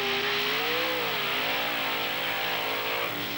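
A 1995 monster truck engine revs hard while racing on beach sand at Wildwood, New Jersey, a loud, continuous roar with rising and falling pitch that fills the whole stretch.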